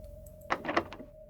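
A locked door is tried in a visual horror game, giving a brief burst of three or four rattling clunks, close and moderate in level, set against a steady low electronic tone that runs throughout.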